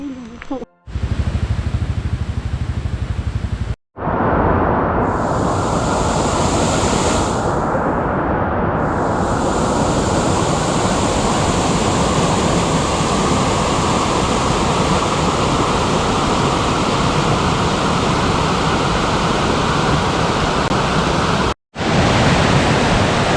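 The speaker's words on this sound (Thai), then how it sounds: "อันนี้เรากำลังเดินไปดูน้ำตกนะครับ" A waterfall in Nan province, Thailand roars loud and steady, a dense, constant rush of falling water that fills the scene, broken only by a couple of brief cuts.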